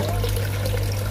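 Water runs steadily through a bucket filter in a one-pump, four-bucket budikdamber fish-farming recirculation setup, a constant close trickle over a low pump hum with no pauses.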